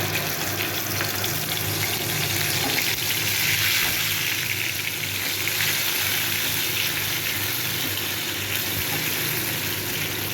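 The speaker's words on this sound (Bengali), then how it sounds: "টমেটোটা একটু ভালো করে কষিয়ে নেব।" Ground tomato sizzles and fries steadily in a pan for paneer kofta, a constant close, moderately loud hiss with no speech over it.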